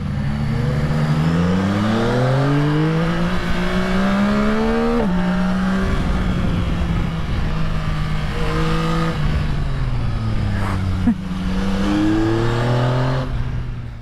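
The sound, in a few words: Yamaha Tracer 9 GT motorcycle accelerating on a ride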